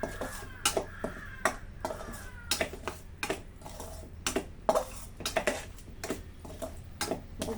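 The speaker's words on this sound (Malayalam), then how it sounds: "ഇതെല്ലാം കൂടെ നമുക്കൊന്ന് മിക്സ് ചെയ്യും" A spoon stirring salted mango pickle mixture in a metal pot, giving sharp, irregular clinks and scrapes at close range over a low steady hum, with no talking.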